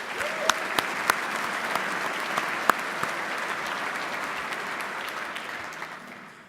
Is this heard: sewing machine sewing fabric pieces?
no